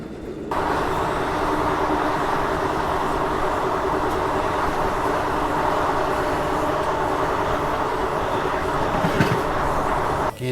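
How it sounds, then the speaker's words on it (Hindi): A push-pull passenger train on an Indian line between Howrah and Prayagraj, its pantograph down, rumbles steadily and loudly with continuous wheel and carriage noise throughout. "पुशपुल मोड में ये पैसेंजर ट्रेन जो है वो चल रही है।"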